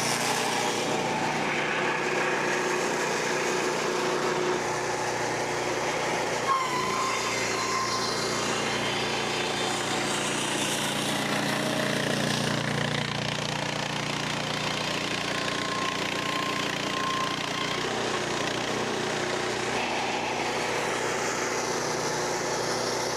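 A lumberyard edger machine is throttled up and running cherry boards through it, giving a steady, loud engine drone with a constant mechanical hum that rises slightly in intensity partway through.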